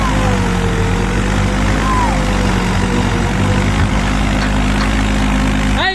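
A Mahindra tractor engine runs steadily while the tractor drives through deep water, a constant low drone with a faint whine close by, ending in a brief rising squeal.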